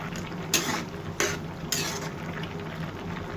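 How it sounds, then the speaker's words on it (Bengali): Onions being stirred in a pan after the lid comes off, a soft sizzle under three sharp scraping strokes of a utensil against the metal, spaced about half a second apart. "ঢাকনাটা খুলে আমি লাড়া দিয়ে দেব"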